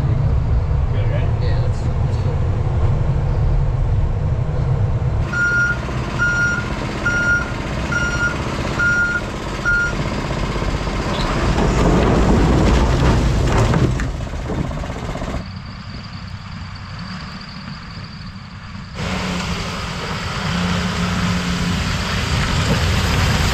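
An excavator used for mowing, hammering and loading wood runs steadily and loudly up close, its engine droning throughout with repeated reversing beeps partway through and the tone shifting as it works. A person talks at moments.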